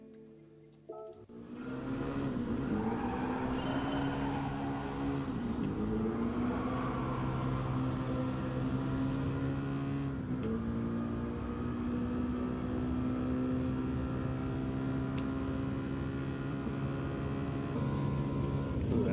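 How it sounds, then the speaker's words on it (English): A car engine in a racing video game revs continuously for nearly twenty seconds, a loud, buzzing, whiny drone that rises and drops with gear changes. "once you get up to the higher gears, a lot of engines start sounding whiny, very whiny"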